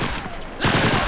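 A machine gun fires short bursts in Call of Duty 2, a choppy string of loud rapid shots that thins briefly mid-clip and then comes back harder and denser.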